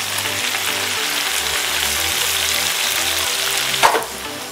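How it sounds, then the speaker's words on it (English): Meatballs and onions frying in a pan while being nudged around with a wooden spoon, a loud steady sizzle with a brief knock of the spoon near the end, no voices. "Very carefully, using a wooden spoon, we're gonna just slowly start nudging our meatballs around so that the onions can touch the pan."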